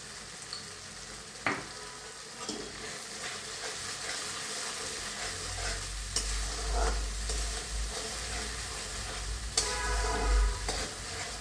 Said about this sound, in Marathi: चांगला परतून घ्यायचा मसाला चालून पण शिजवलेला आहे पण थोडंसं अजून परतून घ्यायचं